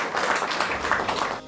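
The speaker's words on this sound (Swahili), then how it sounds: "A round of applause." Audience applause at a public health forum in Isiolo County, a steady, dense burst of many hands clapping, close and fairly loud, fading at the end.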